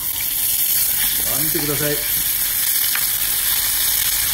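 Chicken skin sears loudly in a hot pan, a steady dense sizzle throughout, with a short spoken remark over it.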